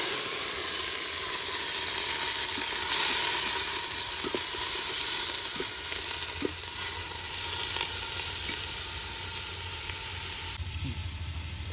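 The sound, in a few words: onions frying with whole garam masala and bay leaves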